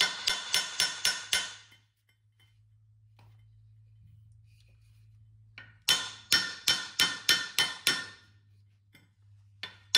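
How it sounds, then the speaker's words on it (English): Hammer strikes on the jet pump of a Kawasaki STX 900 personal watercraft, heard as two loud, close bursts of rapid, evenly spaced metallic blows, about six per burst, separated by several seconds of near silence. "Here's a hammer."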